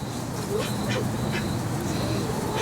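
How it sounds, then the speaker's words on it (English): Backyard turkeys squabble with short, harsh squawking calls over a steady background of outdoor noise, heard fairly near. "my turkeys are bickering with each other."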